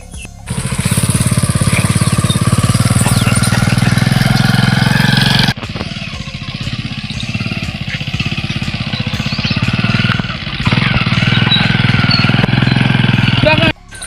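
A motorcycle engine runs loud and close with a steady throbbing drone, briefly dropping in level midway before surging again, with people talking over it.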